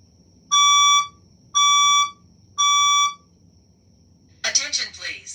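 A school science room fire alarm test: three loud, evenly spaced electronic horn blasts of about half a second each, followed by a voice starting an announcement.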